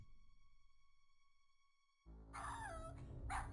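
A dog in a King's Quest video game barks and whines sharply in a couple of bursts after a fading tone, loud and close over a low game background.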